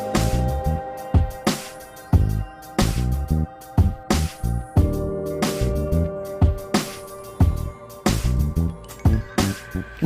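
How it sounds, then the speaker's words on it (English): A snare drum demonstration inside a full hip-hop beat, with sharp snare cracks landing on a steady backbeat over bass and melodic layers, loud and upfront with no talking. "if you're not sure what a snare sounds like, here's a quick demo."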